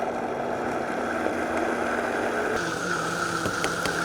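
A Vitamix blender whirs through salsa verde with tomatillos, a steady motor drone that shifts pitch about halfway through as the speed changes. It is fairly loud, with no talking over it.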